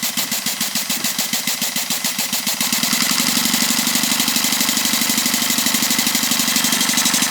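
A coal-fired Maxitrak 1 inch scale Burrell agricultural traction engine model runs on steam, giving a loud, close, steady rapid chuffing beat that quickens and grows denser partway through.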